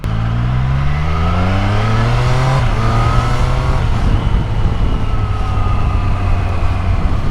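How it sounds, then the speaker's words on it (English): A Triumph Street Triple 765 Moto2 Edition motorcycle engine revs loud and close, its pitch climbing through the gears with a rising howl before settling into a steady drone. "What a lovely sounding bike as well."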